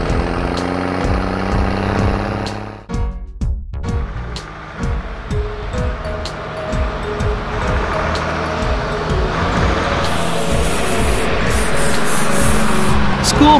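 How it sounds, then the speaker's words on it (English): A fire truck's engine rumbles loudly nearby while water sprays in a broad hissing rush, the spray growing stronger and brighter toward the end. "Fire truck."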